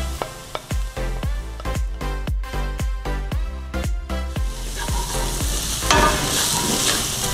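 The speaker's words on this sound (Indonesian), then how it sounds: "kita masukin jahe yang sudah diparut, lalu tambahkan bawang putih yang sudah dicop halus" Grated ginger and finely chopped garlic stir-fried in a hot pan while cooking a Middle Eastern-style dish, a loud steady sizzle broken by a regular series of sharp scraping strokes from the spatula, with no talk.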